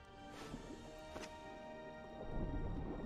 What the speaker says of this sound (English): Oh, great, a storm's rolling in.